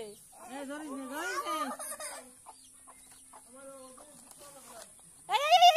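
A chicken clucks and squawks in short bursts at close range, mixed with people talking, ending in a louder sharp cackle.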